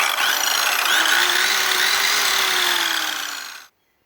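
A power saw rips a long cut along the edge of used plywood, a loud, close, steady whine with a rising and falling tone that cuts off abruptly near the end, followed by silence.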